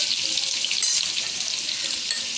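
Onions fry to a reddish brown in a pan for a Bengali bata fish curry, giving a dense, steady hiss and crackle up close, with a brief brighter spatter midway and no voices.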